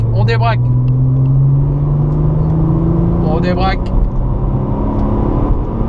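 A Porsche 997 Targa 4S engine accelerates on a race circuit, its steady rising drone climbing in pitch from inside the car while a coach's voice calls out briefly twice over it.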